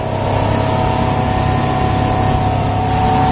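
A 1999 Sea Ray 270 Sundancer runs at wide open throttle around 3,500 RPM and 25 knots, its engine a loud, steady close roar with rushing water and wind blended in, no voices.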